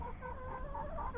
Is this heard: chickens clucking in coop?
yes